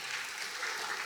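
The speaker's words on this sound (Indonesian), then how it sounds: "Tepuk tangan dulu dong." Steady, dense applause from an audience at a youth rally, a continuous wash of clapping that fills the whole moment without pause.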